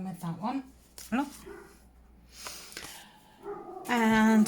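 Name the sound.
dog barking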